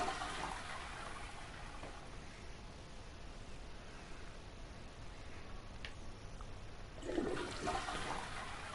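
A toilet flushes inside the video game Prey, a soft steady rush of water that keeps draining and trickling, then surges louder near the end, with no talk.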